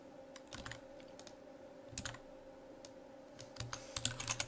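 Computer keyboard keys tapped in short irregular bursts while entering an email address during an account sign-up, close and fairly quiet, with a steady low hum underneath and no talking.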